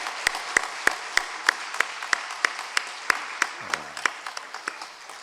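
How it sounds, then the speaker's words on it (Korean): A Korean church congregation claps in unison during a service, sharp evenly spaced beats about three per second that soften toward the end, with a brief low voice near the close. "박수 한번 부탁드립니다."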